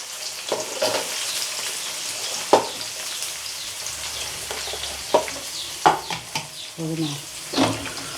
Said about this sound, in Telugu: ఆల్రెడీ నూనె కాడ వేడిగా ఉంది కాబట్టి తొందరగానే కాలుతున్నాయి పగలుతున్నాయి అనమాట